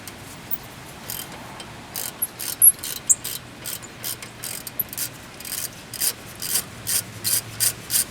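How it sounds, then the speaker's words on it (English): A socket ratchet loosening a 17 mm bolt on car brakes gives a steady run of quick clicking strokes. The clicks are close and crisp and repeat in short bursts with no talk over them. "We're going to use a regular socket and we're just going to loosen it up."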